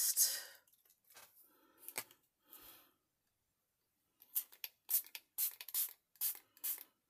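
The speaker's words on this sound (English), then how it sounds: "Well, that spray was a bit reluctant." Several short bursts of a spray bottle hissing, a few near the start, then a pause and a quicker series of sprays.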